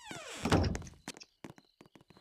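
A door in a grandmother's house swings shut with one solid thunk, followed by a few light clicks and taps of the latch, close and otherwise quiet.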